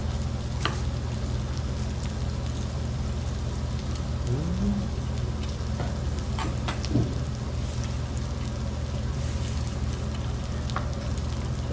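Pork belly (samgyeopsal) sizzles on a grill with a steady, dense crackle over a low hum, dotted with occasional pops and a brief faint voice.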